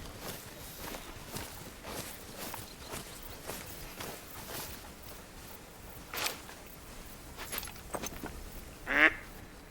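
Ducks quack in a duck-hunting video game, with soft rustling steps throughout and a few scattered calls, the loudest and clearest one coming near the end.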